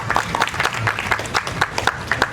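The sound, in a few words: audience applause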